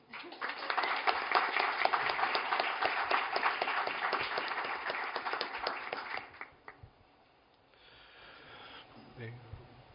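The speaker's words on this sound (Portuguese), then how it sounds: "eu passo então a palavra a Caio Boschi, a quem eu peço aplausos de boas-vindas" An audience at an academic talk applauds to welcome a speaker, with dense, lively clapping for about six seconds that then tapers off into quiet room sounds and faint breathing.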